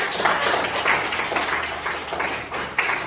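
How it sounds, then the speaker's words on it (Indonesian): Light applause from a small classroom group of students during a sociology lesson, a steady patter of clapping at moderate distance lasting a few seconds with no talk over it. "beri aplaus dulu untuk kita"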